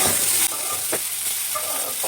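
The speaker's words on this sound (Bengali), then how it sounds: "পেঁয়াজ দিয়ে কালো জিরা সম্বার দিয়ে কাঁকরোল ভাজা" Spiny gourd fries in a pan with onion, green chilli and black cumin, giving a steady close sizzle broken by a few short scraping stirs.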